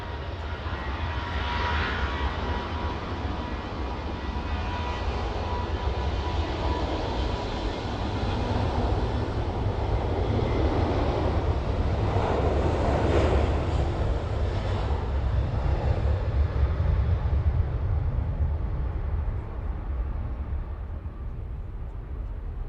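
Jet2 airliner taking off from runway 09 at East Midlands Airport, a sustained engine roar that swells toward the middle and holds steady, heard from a moderate distance with no voices.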